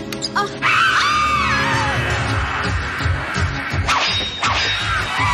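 A princess screams loudly, a long, harsh vocal cry with crashing and whooshing effects around it, close and intense throughout.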